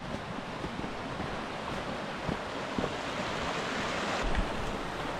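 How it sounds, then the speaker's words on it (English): Continuous rushing creek water with a broad, noisy hiss, flowing just beside the trail on the Taggart and Bradley Lake loop in Grand Teton National Park, mixed with some wind buffeting the microphone. "there's that familiar sound of the creek flowing just beside us"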